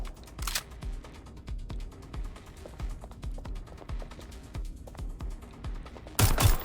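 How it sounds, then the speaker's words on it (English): Gunfire in the video game Watch Dogs Legion: a steady run of crisp, fairly quiet shots at a brisk, regular pace, with a louder burst right at the end. "They're shooting!"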